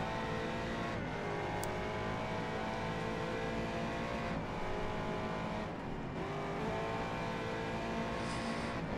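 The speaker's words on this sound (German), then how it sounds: "Jetzt wieder Vollgas geben." A race car at full throttle in the video game Race Driver: GRID during an Aston Martin versus Corvette challenge, its engine roaring loud and continuous with rising and falling gear pitches, with no talking.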